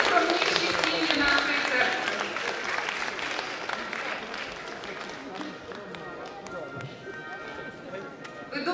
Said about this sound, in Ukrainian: Аплодуємо найскромніші сім'ї на